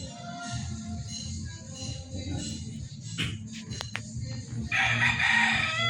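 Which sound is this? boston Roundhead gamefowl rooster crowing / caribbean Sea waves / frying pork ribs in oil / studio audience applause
boston Roundhead gamefowl rooster crowing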